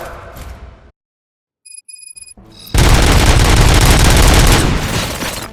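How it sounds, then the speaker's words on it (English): Gunfire erupts in the video game Robocop: Rogue City, a loud dense barrage of rapid shots and booms following a brief silence and a few electronic beeps. "Gunshots? What's going on?"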